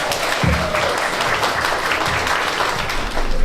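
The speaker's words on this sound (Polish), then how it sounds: "O, ogromne brawa dla dzieciaków." Sustained, dense applause from an audience at a preschool ceremony for young children, steady and fairly loud throughout with no speech over it.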